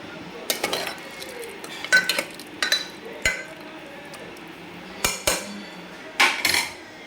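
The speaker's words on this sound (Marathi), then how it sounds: "तर छान ढवळून घेतल्यानंतर" Mutton and pumpkin curry stirred in a pot, with a spoon clinking and scraping against the metal in short, irregular bursts separated by quiet pauses, close by.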